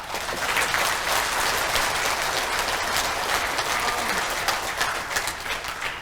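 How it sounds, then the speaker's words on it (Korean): Veterans and guests in a National Assembly conference hall give a loud, sustained round of applause for fallen comrades, thick continuous clapping lasting several seconds without any voice over it. "하늘의 별이 되신 그분들을 위해서 다시 한번 큰 박수를 부탁을 드리겠습니다"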